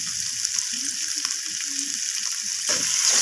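Vegetables for a mixed-vegetable dal, just salted, sizzle steadily in a frying pan while being stirred, with soft scraping strokes under a constant frying hiss that swells slightly near the end.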